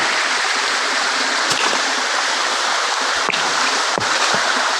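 Floodwater pours down a waterfall and stream on a farm, a steady, loud broadband rush that fills the whole clip with no talking.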